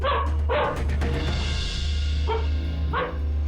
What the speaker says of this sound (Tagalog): maririnig ang sunod-sunod na pagtahol ng aso na si Buddy.